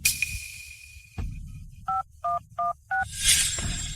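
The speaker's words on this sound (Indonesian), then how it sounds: "Jason, ayo telepon 911" A phone dials 911, four clean, evenly spaced touch-tone beeps sounding loud and close after a faint steady tone, with soft room noise around them.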